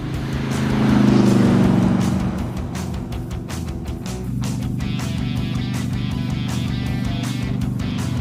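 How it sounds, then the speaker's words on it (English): A Pro Street car with big wide rear tires drives along the road. Its engine drones loudly and steadily and swells in a rev near the start, heard from inside the car with no talk. "It's just like driving a regular car."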